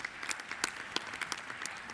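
A round of applause for a new speaker at the TUC Congress 2017: dense, steady clapping from a large hall crowd, continuous and even throughout, with no talking over it.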